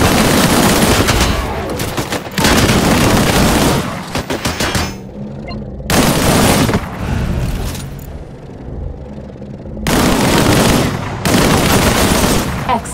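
Loud, sustained bursts of primary-weapon gunfire in the game Disintegration, several long volleys separated by brief quieter gaps with rumbling and echo.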